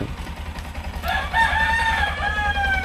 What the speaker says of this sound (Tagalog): Dami na palang manok ni Papa.